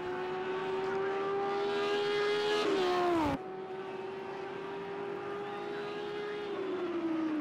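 Lamborghini GT3 race car engine in a racing video game at the Red Bull Ring, a loud steady high-revving drone that drops in pitch on a gear change, then holds and eases off near the end.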